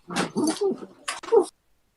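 A small pug whimpers and yips in a few short, whiny bursts close by, with brief gaps between cries and no other sounds.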